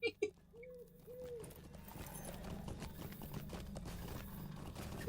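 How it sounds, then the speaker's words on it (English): Hooves of horses ridden in a video game clip-clop steadily at a trot under continuous background sound, with a couple of brief voice-like calls at the start and a louder hit at the end. "we can just get on our horses and ride out"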